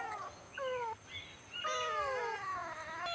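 Cat meowing indoors at home, several clear rising and falling meows in quick succession, close and fairly loud against a quiet room.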